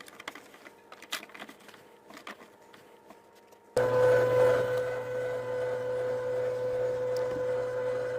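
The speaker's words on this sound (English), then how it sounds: "feed the meat down through the throat, and you will notice that it is coming out the head of the grinder in a fine grind" An electric meat grinder starts abruptly after a few quiet clicks and handling noises, then runs with a steady motor hum and whine as meat is fed through for a fine second grind, close and alone.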